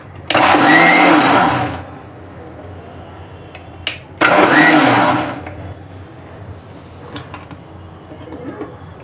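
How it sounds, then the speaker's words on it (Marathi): A kitchen mixer blending strawberries with milk into a milkshake runs in two loud, close bursts of about two seconds each, a steady whirring roar with a short pause between them, then a quiet room with faint clicks. "चालू मिक्सर"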